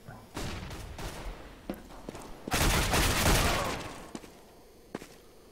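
Gunfire in a Counter-Strike match on the de_cache map, with scattered single shots and short bursts around a heavier sustained volley in the middle, at moderate loudness with faint voices in the background.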